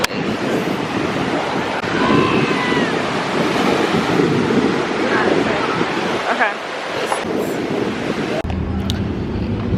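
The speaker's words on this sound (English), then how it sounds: "y'all, it's so windy." Strong wind roars steadily across the microphone at a beach, mixed with the broad wash of surf, loud and continuous throughout.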